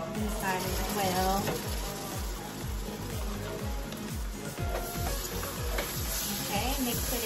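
Jalapenos hit a pan of frying shrimp for salt and pepper shrimp, giving a steady sizzle with rhythmic stirring scrapes throughout, fairly soft and close.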